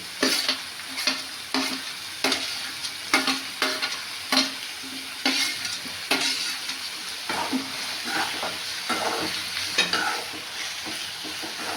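Tomatoes frying and being stirred in a pan for a matar mushroom dish: steady close sizzle broken by repeated scraping stirs of a spatula, with no one speaking.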